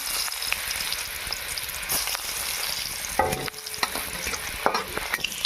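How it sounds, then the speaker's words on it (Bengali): Dried red chillies fry in hot oil in a pan, a continuous close sizzle broken by scraping stirs and a few sharper crackles. "শাক ভাজার জন্য তেল গরম হয়ে গেছে, দিয়ে দেবো শুকনো লঙ্কা"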